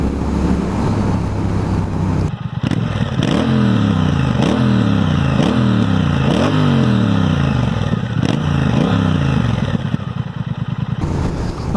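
A 2019 Triumph Speed Twin motorcycle on its stock exhaust revs and accelerates up through the gears in repeated rising sweeps. The engine note is loud and close, with wind noise throughout and no talking.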